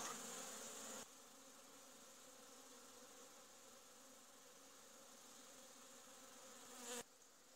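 Honeybee colonies at an apiary in winter, four colonies making a cleansing flight around their hives: a steady, dense buzzing drone of many bees fills the whole clip, with no talk.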